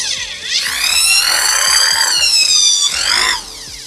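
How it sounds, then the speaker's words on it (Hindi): A 280W screwdriver-drill machine runs in screwdriver mode with a loud, steady, high-pitched motor whine that rises and holds for a few seconds, dips briefly, then winds back up before cutting off. "इसको हम अभी फर्स्ट तो स्क्रू ड्राइवर के लिए यूज़ करेंगे।"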